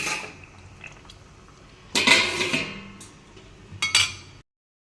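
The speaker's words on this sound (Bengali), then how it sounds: "চিতল মাছের ঝোল আর একটু ঢেকে দেব" Metal lid set onto a pot of simmering chital fish curry, two clattering clinks about two seconds apart standing out over a low, steady background.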